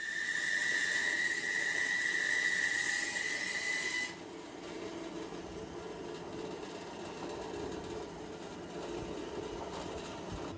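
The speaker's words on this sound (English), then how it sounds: "this is only a 14-inch 1-horsepower bandsaw with a 6-inch extension block, and I'm probably running it at its capacity with these huge cuts" A 14-inch 1-horsepower bandsaw with an extension block cuts slabs from a firewood log, starting with a loud, strained high whine and blade hiss that abruptly drops to a quieter motor rumble and hiss after a few seconds.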